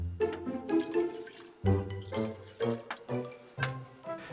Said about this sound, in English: The second step is to fill the 1st, 3rd, 5th, and 7th glasses with water.